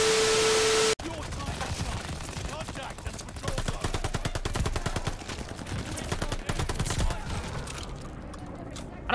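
MP40 submachine gun fire in Call of Duty Vanguard, a rapid, rattling automatic stream of shots in long sustained bursts, close and loud, after a brief opening tone, with a voice talking over part of it.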